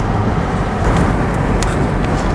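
Steady broadband rumble of a car driving on a road, road and engine noise filling the whole stretch at a constant, close level with no clear speech.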